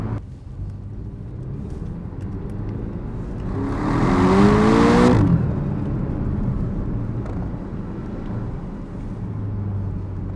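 A mid-engine Porsche 718 Cayman GTS 2.5 accelerates from inside the cabin, its engine note rising and swelling for a couple of seconds before settling back to a steady hum.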